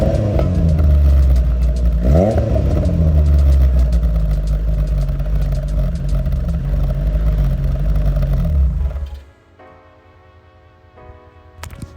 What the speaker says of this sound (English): Yeah, guys, that was the sound of the exhaust.